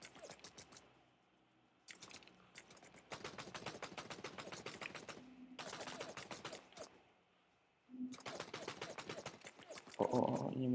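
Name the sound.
gunfire in the video game Code of War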